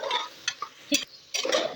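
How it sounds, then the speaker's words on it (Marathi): Chicken being stirred into fried onions in a pressure cooker, with a few separate spoon scrapes and clinks against the metal pot over a soft sizzle. "कांद्यामध्ये चिकन व्यवस्थितरित्या मिक्स करून घेऊयात"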